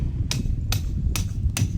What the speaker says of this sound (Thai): ตอกเต็มเหนียวเลยค่ะ